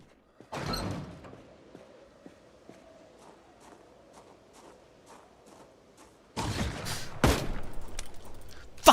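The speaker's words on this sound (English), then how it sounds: "Why was I hearing gunshots?" Gunfire in Project Zomboid: a loud burst opens, then a string of faint, regularly spaced clicks or footsteps, followed by several sharp, loud shots near the end, with no talk, before a gun jams.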